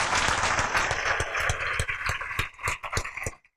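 Audience at a gathering clapping loudly for students, fast uneven claps that grow sparse and break into a few separate claps before stopping.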